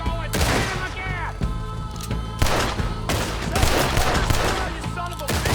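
Gunfire from Red Dead Redemption 2: a loud, sustained fusillade of repeated gunshots and booming reports over about five seconds, with shouting voices and game music running underneath.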